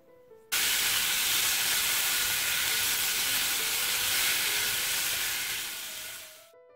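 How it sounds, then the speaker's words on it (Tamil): Onion, garlic, green chili and cumin sauté in a little oil, a loud, dense, even hiss of frying that starts abruptly and holds steady before fading slightly at the end. "கொஞ்சமாக எண்ணெய் விட்டு வெங்காயம் பூண்டு பச்சை மிளகாய் ஜீரகம் சேர்த்துருக்கேன் இது எல்லாத்தையும் நல்லா வதக்கிடுறேன்"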